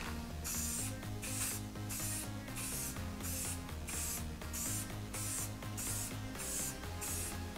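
Spray paint can releasing light coats in quick, regular hissing bursts about twice a second, each a short airy spray stroke over soft background music.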